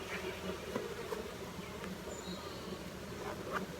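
Honeybees buzz in a soft, continuous drone at a hive during a colony split, with a few louder individual bees passing close by and brief faint clicks.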